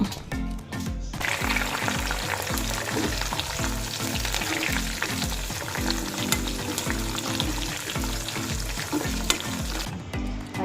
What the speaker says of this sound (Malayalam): ഇനി ഇതിനകത്ത് അണ്ടിപ്പരിപ്പ് മുന്തിരിങ്ങ വറുത്തെടുക്കണം